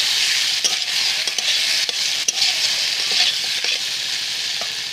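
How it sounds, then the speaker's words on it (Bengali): Fried potato and eggplant pieces stirred through a spice paste in a pan for a tengra fish curry, a loud continuous sizzle broken by scraping strokes of the spoon, close and steady. "আমি তার ভেজে রাখা আলু আর বেগুন মশলার উপরে দিয়ে দেব। দিয়ে খুব ভালো করে আমি কষিয়ে নিয়ে"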